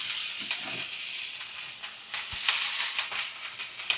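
Mustard seeds, fennel, cumin and other spices sizzle in hot oil for a fish curry, giving a loud, close, continuous hiss with scattered crackles and pops throughout.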